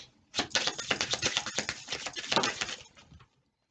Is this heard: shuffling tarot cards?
yes